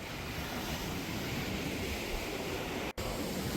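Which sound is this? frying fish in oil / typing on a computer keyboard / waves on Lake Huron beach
waves on Lake Huron beach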